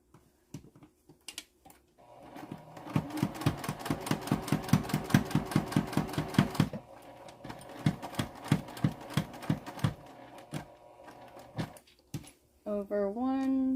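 A sewing machine stitches a pocket down onto a gusset in rapid rhythmic runs of needle strokes that stop and restart, with a short voice near the end.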